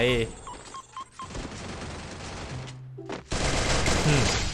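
Rapid bursts of gunfire in Free Fire crackle through a busy mix, with a few quick shots early and a louder sustained volley near the end, music and effects layered underneath.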